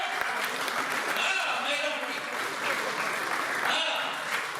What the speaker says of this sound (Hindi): अरे तालियां थोड़ी ज्यादा बढ़ाओ महिलाओं के लिए